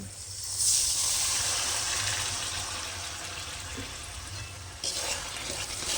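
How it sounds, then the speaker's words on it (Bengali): Water poured into a pan of sizzling star fruit chutney sets off a sudden loud hiss and steady frying crackle, with a second surge of sizzling near the end. "এবার আমি অল্প করে একটু জল দিয়ে দেবো"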